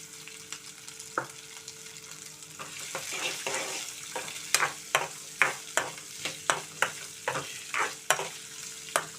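Sliced onions and tempering seeds fry in a pan for Bombay chutney, a steady close sizzle broken by regular sharp scrapes of stirring that grow more frequent toward the end, with no talking.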